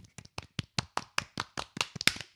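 Rhythmic hand clapping in a small room, about a dozen distinct, evenly spaced claps close to the microphone, growing slightly louder toward the end.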